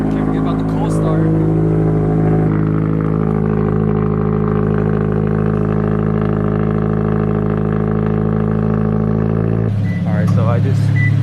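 A Subaru BRZ engine cold-starts and holds a loud, steady, close idle hum for about ten seconds before the sound drops abruptly.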